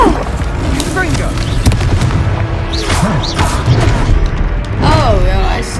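Confringo spell effects in the video game Hogwarts Legacy: booming, crackling magical blasts and whooshes layered over steady game sound, with a voice shouting through the action.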